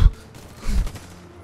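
Gunfire in the shooter game Warface: two short, punchy bursts of shots, one at the start and another about half a second later, fairly close and clear.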